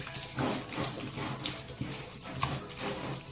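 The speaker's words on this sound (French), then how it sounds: "Et petit à petit, on ajoute de l'eau en petite quantité." Water is added little by little to a dough mixture that is being kneaded by hand, giving a soft, continuous wet trickle and splashing with gentle squelches, up close with no talk.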